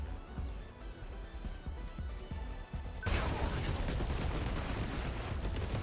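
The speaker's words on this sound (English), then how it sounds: "These multi-lock missiles, probably a good idea." Multi-lock missiles fire in 13 Sentinels: Aegis Rim: scattered light game clicks give way to a sudden, dense barrage of loud explosive blasts that keeps rolling to the end.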